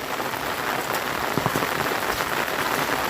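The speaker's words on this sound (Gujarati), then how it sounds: "આ વરસાદ ચાલુ થઈ ગયો છે" Steady rain falls on surfaces nearby, a continuous pattering hiss with scattered louder drops and no voices.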